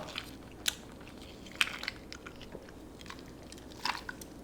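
Close, fairly quiet chewing and biting on a flower cake, with a few sharp crunchy bites spread irregularly over steady soft mouth sounds and no talking.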